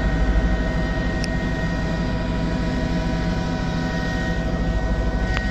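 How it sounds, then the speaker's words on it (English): Inside a news helicopter flying over a highway during unrest in South Africa, the rotor and engine give a loud, steady, droning whine that fills the cabin with no talk. "We're currently reporting live from the pro-secure helicopter."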